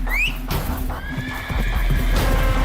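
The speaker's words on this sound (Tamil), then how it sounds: "தமினா விசில் அடித்த அடுத்த நொடி ஒரு மந்திர குதிரை அங்கே ஓடி வந்து நின்றது" A magical horse gives a high, bright whinny, then its hooves clip-clop as it runs up and pulls to a stop close by. Both sounds are loud and clear, and no voices are present.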